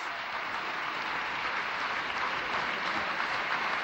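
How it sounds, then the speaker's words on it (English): Steady applause from a large crowd at a 1991 one-day cricket match in Sharjah, a continuous wash of clapping that holds evenly throughout with no voices standing out. "And the applause is for Lambert's 50"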